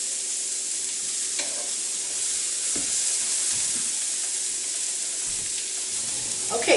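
Pork stir fry with broccoli, onions and peppers frying in a pan gives a steady, even sizzle throughout, with a few scattered taps and scrapes of stirring.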